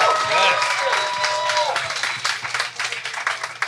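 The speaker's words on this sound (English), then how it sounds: "So a big round of applause for Lyn Alden." A live event audience claps and cheers for a speaker, loud close applause with a few whoops early on, thinning toward the end.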